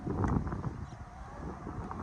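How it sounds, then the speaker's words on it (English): Wind buffeting the microphone outdoors, a low rumbling gust that is strongest at first and then settles into a steady rush. "It's a little windy out here."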